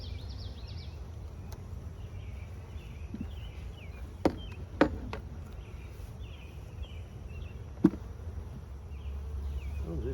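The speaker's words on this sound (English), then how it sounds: "Has lots of bees in it." A steady buzzing hum of many honey bees in a nucleus hive close by, continuous throughout, with a few sharp clicks and taps standing out.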